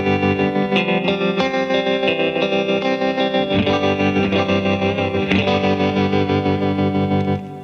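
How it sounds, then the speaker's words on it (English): Electric guitar on a clean tone with tremolo, run through a rack of effects with compressor, chorus and reverb, played as loud sustained chords with a steady pulsing shimmer and no talking. "this is like a tremolo clean"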